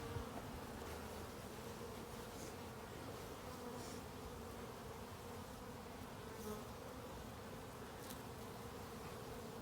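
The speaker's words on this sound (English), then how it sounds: "And that has lots of bees on it." Honey bees buzz in a dense, continuous drone, faint but steady throughout, with no voices.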